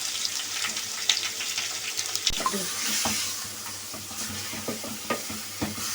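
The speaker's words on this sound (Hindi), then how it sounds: "बस इसमें मैं कीमा डाल दूँगी अपना। तो इसको अच्छी तरीक़े से भूनती हूँ।" Minced meat (qeema) frying over high flame with onions in a pan, a soft steady sizzle broken by scattered spatula scrapes and stirring clicks close by, no talk.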